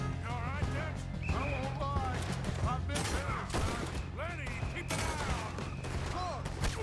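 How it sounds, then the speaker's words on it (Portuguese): Rapid gunfire in Red Dead Redemption 2 rattles in bursts over a droning background as shots hit the player, with game sound effects and voices mixed in throughout. "Olha eu tomando tiro"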